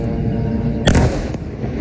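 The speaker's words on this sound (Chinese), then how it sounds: "爆炸巨响后，被击中的高楼冒出大量黑烟。" A loud blast from an airstrike hitting a high-rise building in Gaza breaks over a steady background rumble, followed by a fainter second crack.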